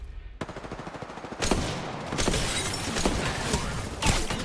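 Gunfire from a video game: a stretch of rapid shots gives way to sharper, louder cracks from several sniper rounds within a few seconds, all over dense ongoing combat noise.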